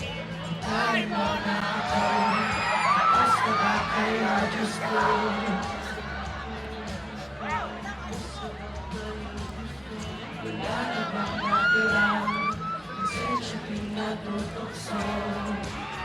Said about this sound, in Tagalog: Grabe yung sigawan na.